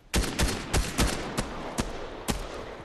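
Shotgun fire in an online shooter game: six or seven sharp, heavy blasts at irregular intervals, loud and close, the first several in quick succession and the rest more spaced out, with no talking over them.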